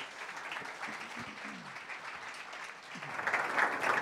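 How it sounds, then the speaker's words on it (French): An audience welcomes two speakers on gamification in finance with applause, a soft, distant, steady crowd clapping that swells a little at the end, with faint voices murmuring beneath. "Je demande d'applaudir Olivier Colombin et Camille Richard"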